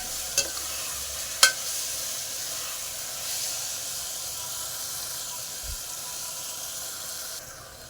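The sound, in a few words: capsicum sautéing in a pan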